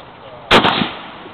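A single loud shot from an M1917 Eddystone Enfield rifle firing cast bullets outdoors, a sharp crack with a short echoing tail after a quiet lead-in.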